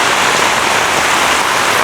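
Heavy rain pours steadily onto crop plants in a farm field, a dense, loud, continuous hiss of drops with no voices.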